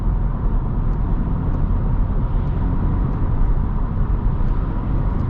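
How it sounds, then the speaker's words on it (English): Honda Civic Sport 2.0 with a manual gearbox, its engine droning steadily at moderate loudness with a continuous low rumble, the throttle going on and off without sharp peaks, nobody talking. "Just getting on and off the throttle here"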